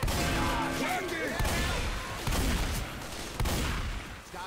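Rapid bursts of gunfire from the video game Left 4 Dead 2, loud and close, come in several clusters with short gaps between them. Players shout over the shooting.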